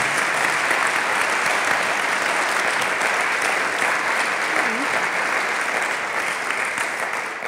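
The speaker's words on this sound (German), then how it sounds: "Ein Applaus bitte." A studio audience applauds on a German stage show, a sustained, even wash of many hands clapping that continues at one level throughout.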